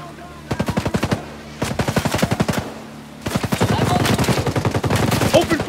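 Three loud, close bursts of rapid automatic gunfire in the tactical shooter Ghost Recon Breakpoint, the last burst longer and more sustained, with short pauses between.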